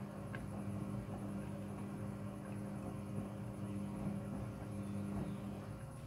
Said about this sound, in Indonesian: Mesin cuci kemudian akan berputar dan proses mencuci dimulai.